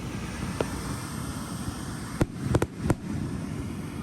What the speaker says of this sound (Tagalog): Ito, Tezutsu Hanabi or handheld fireworks ang tawag dito.